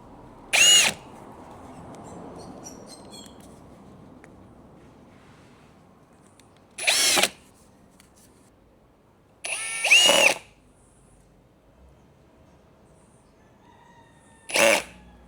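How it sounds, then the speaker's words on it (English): A power drill drives screws into the last post of a garden bed outdoors: four short, loud whirring bursts separated by long quiet gaps. "Right now I'm just finishing up putting some screws in the last post."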